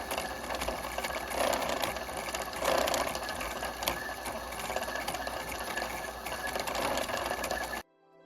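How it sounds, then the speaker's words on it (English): A sewing machine winds bobbins and stitches pink quilt fabric, giving a continuous close mechanical whir that runs unbroken and then stops abruptly near the end. "let's get some bobbins wound and start sewing"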